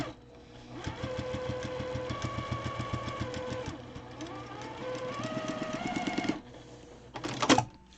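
A sewing machine stitches a quilt in a steady, fast mechanical chatter that runs for several seconds, stops briefly, then gives a short final burst, close and fairly loud.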